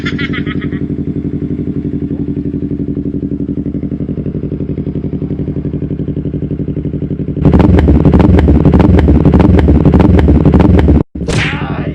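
A Yamaha YZF-R3 motorcycle with a converted catalytic exhaust idles loudly and steadily up close, then jumps into a harsh, louder rev for a few seconds before a sharp cut and return to idle.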